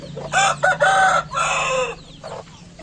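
Nearby local-breed hens, some brooding, cluck and squawk in a few loud, rapid bursts while sunning outdoors, with a low hum underneath and a brief quieter call at the end.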